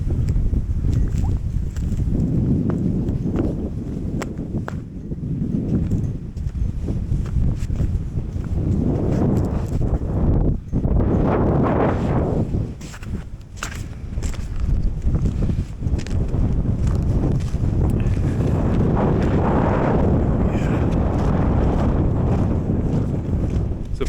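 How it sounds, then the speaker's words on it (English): Strong winter wind gusts steadily against the microphone at a frozen Lake Michigan beach during winter camping with a Honda Element, roaring and buffeting without pause and swelling in surges. "You guys can hear me through the wind"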